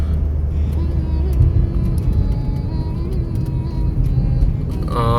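Night road traffic in Bahria Town, Karachi: a steady low rumble of passing cars runs throughout at moderate distance, with no voices over it.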